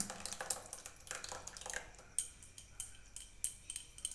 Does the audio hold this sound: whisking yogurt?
yes